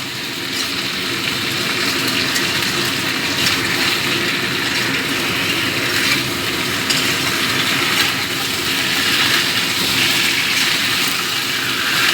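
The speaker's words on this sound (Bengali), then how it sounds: "সাদা জিরের কাঁচা গন্ধটা চলে যাওয়া পর্যন্ত একটু ভেজে নেব" Ginger and cumin paste frying in a pan for a fish curry, a dense continuous sizzle and hiss that stays even and close for the whole stretch, with no voices.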